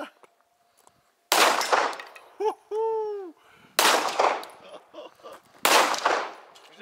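Three loud, sharp pistol shots ring out separately during IDPA tournament practice on a shooting range, spaced a couple of seconds apart, with a brief voiced exclamation between them.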